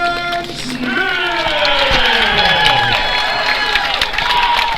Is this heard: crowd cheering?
yes